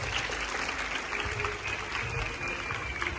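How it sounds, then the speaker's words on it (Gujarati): Audience applause after a children's play at a school Rakhi festival, a steady, moderately faint wash of many hands clapping throughout with no clear breaks. "તાળીઓ"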